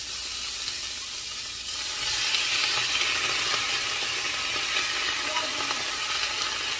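A stir fry mix sizzles steadily in olive oil in a hot pan, with a continuous loud frying hiss and occasional scraping and stirring clicks throughout.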